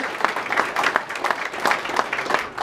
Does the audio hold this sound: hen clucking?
no